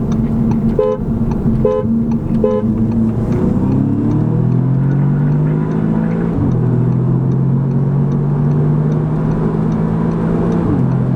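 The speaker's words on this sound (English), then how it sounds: "this car's pulling hard" A car engine revs and pulls hard during a rolling acceleration run, its pitch climbing through the gears, with a few short horn toots near the start; loud and continuous throughout.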